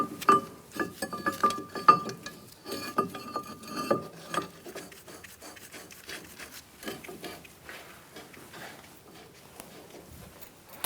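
Bolts being threaded by hand into a front brake caliper bracket on a 2004-2009 Mazda 3: close, quiet metallic scraping and rubbing with light clinks, at first irregular and then steady, with no talking.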